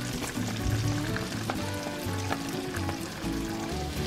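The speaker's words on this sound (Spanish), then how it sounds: "Vamos a freírlo un poquito." Garlic frying in melted butter in a pan, a steady crackling sizzle that runs without a break across the whole stretch, close and moderately loud, with no talking over it.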